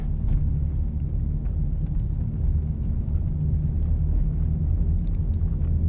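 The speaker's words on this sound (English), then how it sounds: "Don't know if you can hear that rumbling" A continuous low rumble with faint rattling as tires roll steadily over a large metal bridge deck in Mystic, Connecticut, heard from inside the car.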